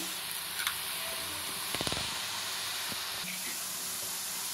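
Omapodi dough pressed in rounds into hot oil, a steady soft sizzle and hiss of frying that runs throughout, fairly quiet, with a few faint clicks and taps and no talk.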